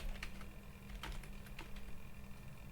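VBA code is typed on a computer keyboard with sparse, faint key clicks in small uneven bursts, quiet and close against a low background hum.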